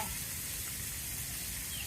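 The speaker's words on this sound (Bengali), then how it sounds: "তারপর কাঁচা মাছ ভাজি করার জন্য দিয়ে দিলাম" Raw fish sizzles in hot oil over fried onion and ginger, a steady, close crackling hiss that holds evenly with no voices.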